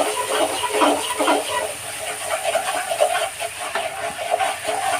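Garlic and ginger paste sizzles in hot oil in a pan as it is stirred, giving a steady, close hiss and crackle with soft irregular bursts throughout.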